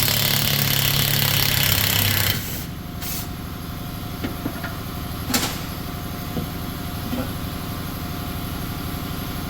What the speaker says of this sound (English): Sorry for the compressor running.